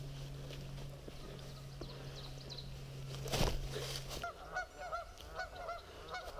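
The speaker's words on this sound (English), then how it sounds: "Noisy freaking geese." Geese honk repeatedly from a short distance in a swampy marsh at Zaleski State Park, a cluster of brassy calls overlapping, with a steady hum underneath and a brief rustle.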